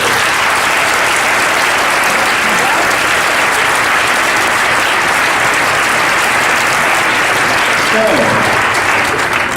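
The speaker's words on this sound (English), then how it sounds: "I want to give them all a round of applause." A large audience claps steadily and loudly throughout at a high school poetry recitation competition, a dense unbroken wash of hands with a faint voice briefly rising near the end.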